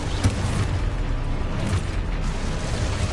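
The Confringo explosive spell from the Hogwarts Legacy game lets off low booming bursts over a steady rumbling bed, with a few sharper pops scattered through a continuous, fairly loud roar.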